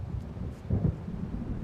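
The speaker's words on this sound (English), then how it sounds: "It seems there's a storm coming." A thunderstorm gathers in the game Alan Wake, with low rolling thunder rumbling under steady wind and rain noise and a dull swell near the middle. No voices.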